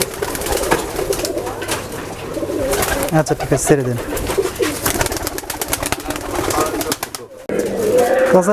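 Giribaz pigeons coo in repeated soft throaty calls close by, mixed with rustling and handling noises, while people talk over them.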